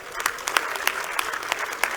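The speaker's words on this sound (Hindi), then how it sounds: "एक बार इनके लिए जोरदार तालियां बजा" A crowd at a Jannayak Janta Party political rally claps for the officials seated on stage, a brief burst of scattered, distinct claps at moderate distance with a faint background murmur.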